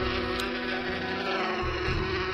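Loud, steady insect buzzing of a bee swarm in the video game Inherit the Earth, a dense continuous drone filling the scene without pause.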